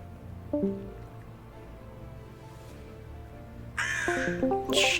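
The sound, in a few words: crow cawing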